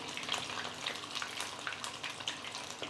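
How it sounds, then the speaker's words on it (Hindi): Chicken pieces fry in a kadai over a low-medium flame, giving a soft, steady bubbling sizzle with faint crackles, no voices. "इन्हें फ्राई करने में हमें 6 से 7 मिनट लगेंगे"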